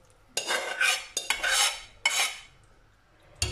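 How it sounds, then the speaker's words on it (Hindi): Boiled chickpeas tipped into masala in a pan and stirred, with three bursts of clattering spoon and pan scraping separated by short near-silent pauses, no talking. "तो जो हमने छोले लिए थे वो इसी के अंदर डाल देते हैं"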